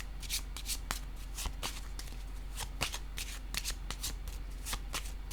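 Tarot cards are handled during a reading, giving a quick series of soft, crisp card flicks and slaps close by at low volume, with no talk.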